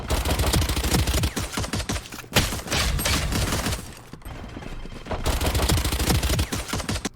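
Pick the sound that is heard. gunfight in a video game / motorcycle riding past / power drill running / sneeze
gunfight in a video game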